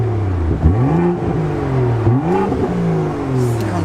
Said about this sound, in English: Before we talk about the story behind this car, have a little listen to it.